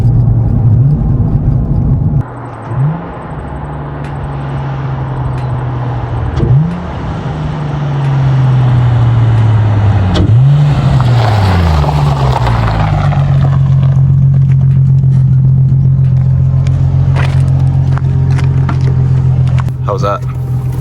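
A Nissan 350Z drives with its engine droning steadily and rising in pitch through several gear changes, loud and close from inside the car, while people talk over it.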